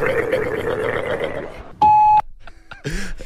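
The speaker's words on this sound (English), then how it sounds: "Leave a message after the beep" A single loud, steady electronic answering machine beep sounds after a stretch of talk, followed by a few quieter tones and more voices.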